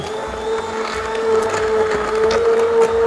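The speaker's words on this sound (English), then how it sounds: "I'm gonna go ahead and blend that up." An immersion blender whirs steadily as it purees cashews and potatoes into a thick cream for New England chowder, a close, continuous motor hum with rising and falling load.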